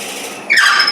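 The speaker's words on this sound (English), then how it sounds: "Get the drill in, slow it down." A drill bit held in a lathe chuck bores into wood for a wooden birdhouse, a soft hiss giving way midway to a sharp, rising high squeal that carries on to the end.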